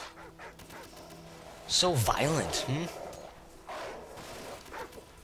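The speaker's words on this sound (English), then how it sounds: "Oh my god, another dog." In the Call of Duty Modern Warfare mission All Ghillied Up, an attack dog barks and yips in a quick loud run of bursts, close and sharp, with a player talking excitedly over the game audio.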